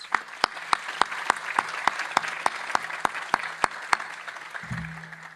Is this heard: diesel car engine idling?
no